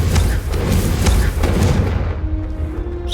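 A Confringo blasting spell explodes in the video game Hogwarts Legacy: a loud, rumbling burst with a booming low end that fades into a ringing tail, with no voices.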